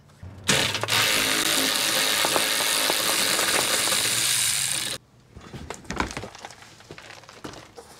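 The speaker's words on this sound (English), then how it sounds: "now I'm going to remove these bumper bolts" A ratchet spins loudly and continuously for about four seconds while removing bumper bolts on a 2022 Jeep, then quieter clicks, rattles and handling of tools follow.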